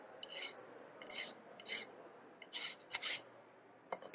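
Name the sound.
deburring metal edges with a file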